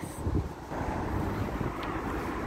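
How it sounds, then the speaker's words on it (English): Steady, heavy wind buffeting the microphone with low rumbling gusts throughout in Chester, England, loud and continuous, with no voices. "It's really, really extremely windy here."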